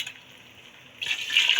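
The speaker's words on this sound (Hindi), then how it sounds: "अब हम इसमें पानी डालेंगे।" Water is poured into a pot of browned cooking beef, a soft splashing rush that starts after a quiet moment and builds louder toward the end.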